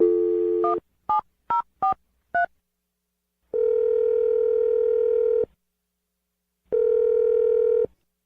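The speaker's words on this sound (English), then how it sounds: "I'm dialing the phone number right now." A telephone dial tone sounds, then five short keypad tones are punched in, followed by two long ringback tones separated by a pause, clean and alone with no voices.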